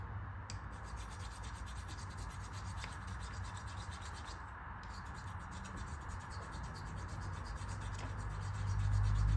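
A small hand file rubbing steadily back and forth over metal mating surfaces on a Shovelhead engine part, a continuous close scraping rasp that grows slightly louder near the end.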